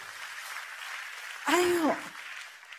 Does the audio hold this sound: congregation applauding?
yes